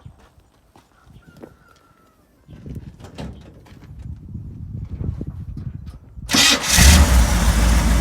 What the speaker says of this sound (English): Brother, can we turn it on?